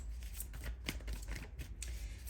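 Tarot cards riffle and shuffle in quick bursts, a close, papery flutter repeating over a couple of seconds with a low hum underneath.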